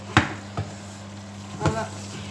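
Vegetables, including cabbage, are stirred in a hot pan, three distinct scraping knocks of a utensil against the pan over a faint steady sizzle and low hum.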